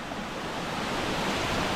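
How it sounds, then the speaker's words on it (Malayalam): Water rushes beneath rocks on a rainy hillside trail, a steady, close broadband roar with no breaks or speech. "പാറയുടെ അടിക്കണ വെള്ളം ഒഴുകി പോകണുണ്ടോ"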